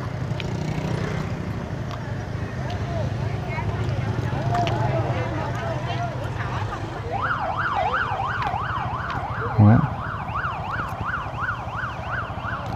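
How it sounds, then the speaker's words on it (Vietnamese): A wailing alarm siren sounds at a street market near Lê Hồng Phong and Phan Văn Trị in Vietnam, used to clear vendors. It starts about midway, rising and falling steadily and loudly over busy street noise and voices. "Chợ hú còi báo động để đuổi những cái người mà tụ tập hay những người buôn bán"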